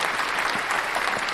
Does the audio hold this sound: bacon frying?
no